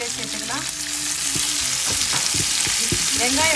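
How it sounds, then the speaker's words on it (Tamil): Sliced onions sizzle and crackle in hot oil in a pan, a steady close frying hiss broken by scraping stirs of a spatula, with no talk. "வெங்காயத்தை சேர்த்து நம்ம அழகாக வதக்கிக்கலாம்."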